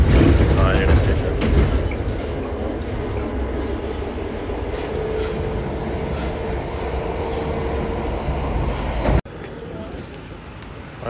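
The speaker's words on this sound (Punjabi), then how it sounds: "ਟ੍ਰੇਨ ਪਈ ਚੱਲ ਆਪਣੀ" A local passenger train runs along the track in Poland, heard from inside as a loud continuous rumbling roar with faint rail clatter, steady throughout before an abrupt drop near the end.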